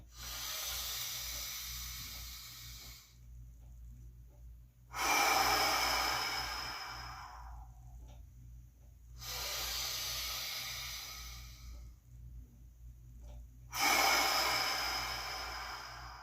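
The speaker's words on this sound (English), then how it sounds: "let's take 3 big deep breaths in and out" Deep breaths drawn in and pushed out during a workout, four long airy hissing breaths in slow rhythm, close and fairly loud, with quiet gaps between them and a low steady hum underneath.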